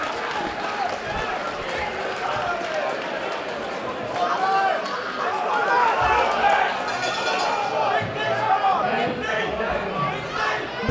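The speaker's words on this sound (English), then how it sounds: "the crowd are going wild in here tonight" Boxing crowd at the Civic Hall making a dense, steady roar of cheers and chatter through the whole stretch, swelling slightly midway, with a commentator talking over it.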